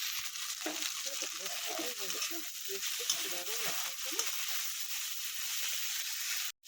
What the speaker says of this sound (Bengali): ওপরে ওইদিকে ভাজাটা হচ্ছে আর কি একটু নাড়িয়ে দিই